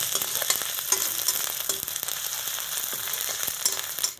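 Onions, chilies and ginger-garlic paste fry in a pan with a continuous loud sizzle, broken by occasional scraping stirs, no voices.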